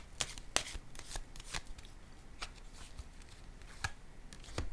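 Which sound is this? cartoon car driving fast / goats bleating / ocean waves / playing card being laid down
playing card being laid down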